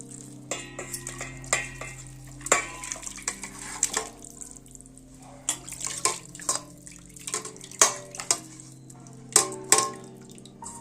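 Water splashes and sloshes in irregular bursts, with rustling, handling sounds and faint clinks, close by, as cut chicken pieces are rinsed and rubbed in clean water in a basin.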